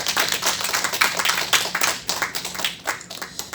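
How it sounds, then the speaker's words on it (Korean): A Korean church congregation claps together indoors, a dense run of hand claps rising and falling for a few seconds, fairly close and without talk over it. "우리 한번 박수하겠습니다."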